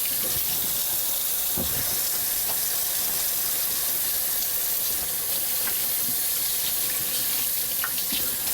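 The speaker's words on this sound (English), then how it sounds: "before you switch back and forth, you always have to wash your hands" Tap water runs steadily into a kitchen sink during handwashing between handling meat and other food, a continuous close hiss and splash that lasts throughout with no talking.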